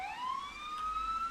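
An ambulance siren in the video game EmergeNYC wails in a faint, steady rising tone from some distance, heard alone with no talk.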